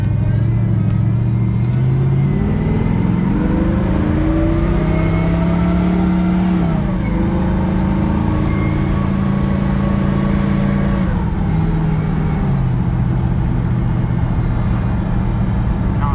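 A 1954 Chevy 3100 pickup truck engine rumbles steadily and loudly as it drives, its pitch rising and falling as it accelerates and shifts.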